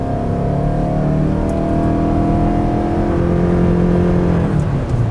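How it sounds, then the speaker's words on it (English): A 2025 Toyota Sienna Platinum AWD accelerates at full throttle, its engine drone loud and steady for several seconds with tones rising and shifting, heard from inside the cabin with no talk. "Here is an idea of the maximum gas that's on the floor."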